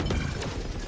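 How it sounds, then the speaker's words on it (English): A weapon is reloaded in a competitive shooter match, a quick run of close mechanical clicks and rattling metal parts lasting under a second, with no talk over it. "Reloading."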